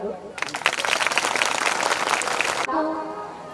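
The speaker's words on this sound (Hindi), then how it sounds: "एक बार अपने लिए ताली बजा लो।" A crowd at a Shrimad Bhagwat Katha religious discourse bursts into loud, dense clapping for about two seconds, stopping abruptly, with a voice speaking before and after.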